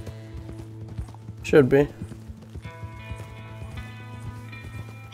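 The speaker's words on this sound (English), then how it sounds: "Just a wild horse in the middle of the street." A wild horse in the street in the video game Red Dead Redemption 2 clip-clops with steady hoofbeats under a game ambience, with a brief whinny-like burst and a short line of speech.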